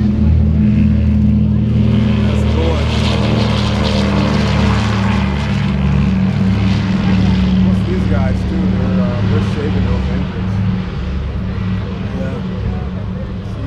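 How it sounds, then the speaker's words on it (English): Engines of the vintage aircraft Texas Raiders droning loudly and steadily as it takes off on a hot day at the 1940s Air Terminal Museum, not at full throttle, with people talking over the continuous roar. "They don't have those engines at full throttle when they take off."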